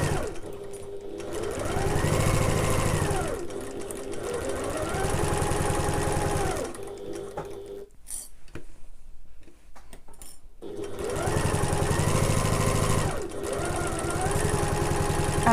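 Close and loud, a sewing machine stitches a fabric backpack in long steady humming runs that speed up and slow down, broken by a short quiet pause with light handling noises.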